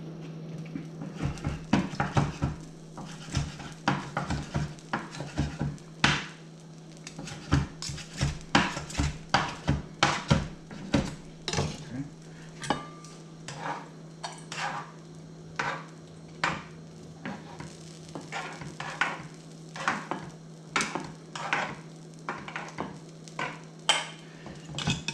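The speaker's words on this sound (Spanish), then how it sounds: "Voy a picarlo más o menos para hacer los tacos." Rapid irregular knife chops on a cutting board as meat is cut up for tacos, close and crisp, in dense bursts with brief pauses over a steady low hum.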